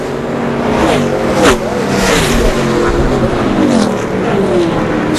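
NASCAR race cars roar past at speed, engines droning and revving continuously with shifting pitch as a pack goes by, under a commentator's voice.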